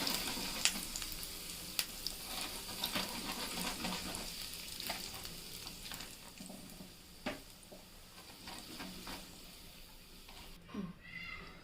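Raisins and cashews sizzling and frying in a pan for an evening snack, a steady crackle with stirring scrapes and light pattering, close and moderate in level, with a voice speaking faintly at times.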